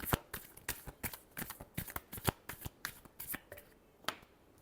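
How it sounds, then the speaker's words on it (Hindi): Tarot cards are shuffled by hand in a quick, crisp run of riffling snaps and flicks, close and moderately soft, thinning out toward the end. "last shuffle"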